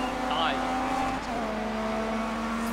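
Rally cars in the Dirt 3 racing game, one overtaking a Peugeot 206 near the finish line, a continuous loud engine drone with a brief rising whine early on and steady road noise throughout.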